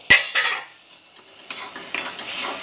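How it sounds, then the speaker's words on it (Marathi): Red chili powder, homemade black masala, turmeric and salt go into a pan for a drumstick and potato curry. A sharp clank is followed by scraping and stirring with a utensil, then a soft, continuous rustle of the spices being mixed. "आता लाल चिली पावडर, काळा मसाला घरचा, हळद, मीठ सगळं टाकायचं त्याच्यामध्ये."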